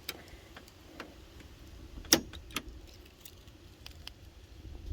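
Keys jangling while a door lock module is changed on a Mk4 Golf GTI, a few faint metallic clinks and one sharper jingle over quiet background hum.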